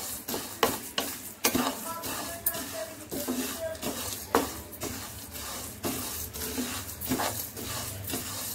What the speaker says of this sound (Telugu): దీన్ని ఫ్రై చేసుకుందాం లైట్గా